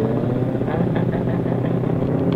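A Honda CBR600RR four-cylinder sport bike idles close by, giving off a steady, even engine rumble that stays constant throughout with no revving and no voices.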